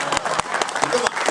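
An audience claps in a brief burst of applause, dense and fairly close, with voices mixed in.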